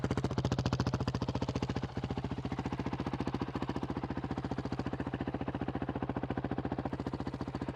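A Honda CRF450RL dirt bike engine runs on a twitchy throttle map, thumping in an even, rapid pulse at steady speed with a brief dip near the two-second mark, close and continuous with no talk.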